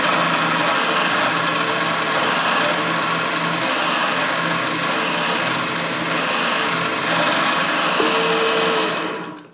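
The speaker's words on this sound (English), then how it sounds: "And then I'll continue just drilling it until the countersink part just starts." A milling machine drills a countersink hole on a Colchester project, a steady loud mechanical whir with cutting noise running nearly the whole time before tapering off at the end.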